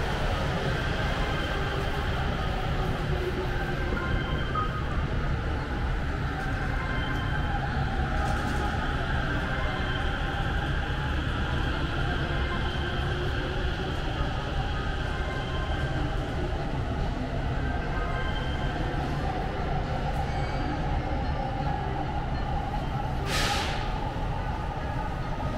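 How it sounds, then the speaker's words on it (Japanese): A Tobu Skytree Line express train rumbles steadily alongside a platform at Kita-Senju station, a continuous low roar with faint squeals, heard from nearby without talk. "急行南栗橋行き到着をしております。"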